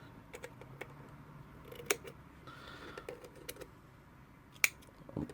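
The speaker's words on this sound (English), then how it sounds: "I'll just go ahead and snip it just past the line." Scissors snipping cotton wick for a GeekVape Griffin vape coil: quiet, close, sharp snips at scattered intervals, about two louder cuts among lighter clicks and handling sounds in a hushed room.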